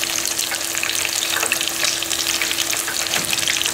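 Chicken wings deep-fry in hot oil, giving a dense, continuous sizzle and bubbling crackle up close, steady and loud throughout with no talking.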